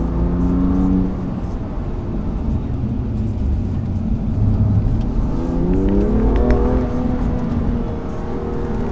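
A 2021 BMW M2 Competition with a six-speed manual on a track, engine droning steadily then rising in pitch as it accelerates, with a smooth, continuous roar heard from inside the cabin.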